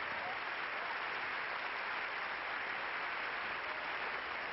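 Tennis crowd at the CoreStates Center in Philadelphia applauding in 1998 after Sampras hits a running crosscourt winner against Enqvist, a dense, steady roar of clapping that holds at full level throughout.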